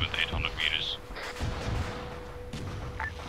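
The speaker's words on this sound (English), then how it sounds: "The gunfire came from the northwest, approximately 800 meters." Distant gunfire in the video game Arma 3 set in Vietnam, a few dull booming shots spread across a few seconds under a man's radio-style talk.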